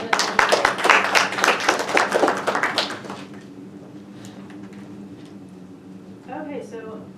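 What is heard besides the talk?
round of applause for everyone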